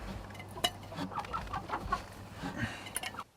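Laying hens of mixed breeds and ages clucking in short, irregular bursts close by, with occasional sharper squawks over a low steady hum.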